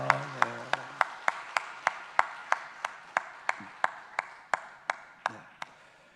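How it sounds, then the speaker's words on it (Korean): A church congregation claps in steady unison for the choir after a special hymn, sharp evenly spaced claps about every third of a second, moderately near and loud, with a brief voice at the start. "우리 찬양대를 위해서 한 번 더 박수합니다."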